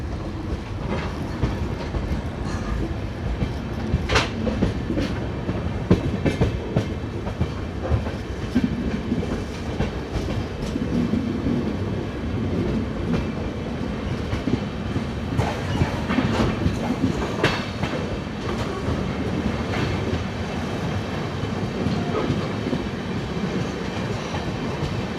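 The Chitradurga–Hubli passenger-cum-express train rolls along with a steady, loud rumble and rhythmic clickety-clack of wheels over rail joints, continuous throughout.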